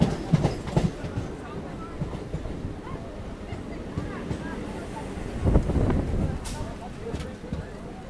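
A local train on the Barddhaman to Katwa line rolls along, with a steady rumble, wind buffeting and occasional clanks from the carriage, heard from inside at close range; voices murmur faintly.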